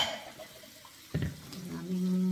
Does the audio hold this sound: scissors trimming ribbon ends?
no